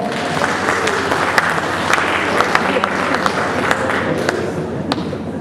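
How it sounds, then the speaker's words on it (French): Loud audience applause at a cosplay stage event, a thick continuous roar of clapping with a few sharper individual claps popping out, sustained for several seconds. "On l'applaudit bien fort."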